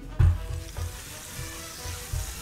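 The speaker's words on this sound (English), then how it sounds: "We'll toast one bread first." Buttered bread sizzles on a small hot grill, a steady crackling fry with a few soft pops and stirring-like shuffles, close and moderately loud with no talking.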